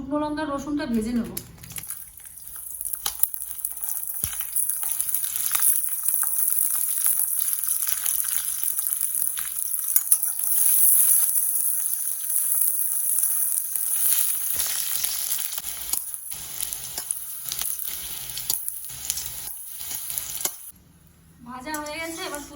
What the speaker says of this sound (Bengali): শুকনো লঙ্কা রসুনটা ভেজে নেব।